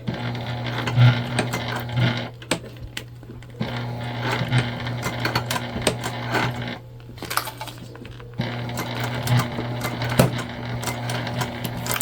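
A sewing machine basting around a curved clear-bottom pouch runs in fast rhythmic stitching bursts, pausing twice briefly, close and steady with no talking.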